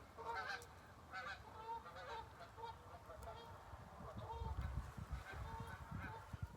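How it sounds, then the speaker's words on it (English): Geese flying overhead outdoors near a shelter: repeated faint honks in a loose series at a distance over low rumbling background noise. "There's some geese flying right overhead."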